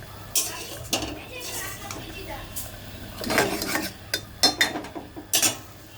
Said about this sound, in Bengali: ওর মধ্যে আমি এই যে এই পেঁয়াজ লঙ্কা হলুদ লবণ দিয়ে ভেজেছিলাম এটা দিয়ে দিলাম জলের মধ্যে।